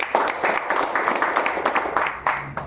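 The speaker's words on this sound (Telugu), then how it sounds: "ఒకసారి వీళ్ళకి గట్టిగా చప్పట్లు కొడదామండి." An audience claps together at a business presentation on products and a sales plan, a dense, steady patter of many hands that holds for a few seconds with a faint voice underneath.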